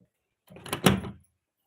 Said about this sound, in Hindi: 1 मिनट दरवाजा खोली तो